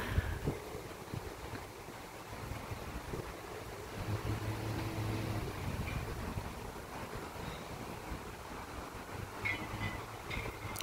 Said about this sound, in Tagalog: ang tubig, oh, nahahampas ng hangin, kaya ang galaw, maalon